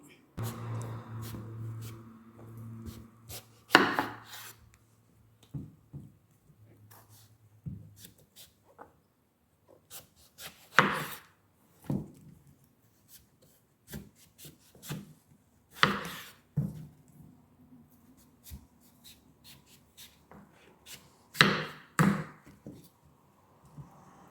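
Green pumpkin being chopped into pieces with a knife on a board, sharp irregular thuds spaced a few seconds apart, fairly close, with quiet stretches and a voice speaking briefly at the start.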